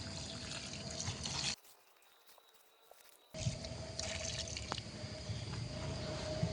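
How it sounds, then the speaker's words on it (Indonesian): Water poured onto the soil around a young durian tree, giving a soft, close trickling and splashing that runs in two stretches separated by a short quiet gap, with no talk. "Saya siram dengan sedikit air supaya cepat larut."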